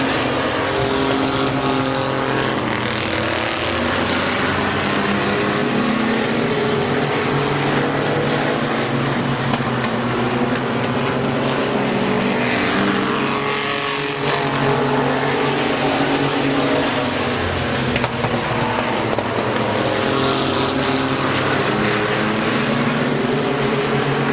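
Race cars roar around the oval at Midvale Speedway, a loud, sustained blend of engines rising and falling as the pack passes, with no voices over it.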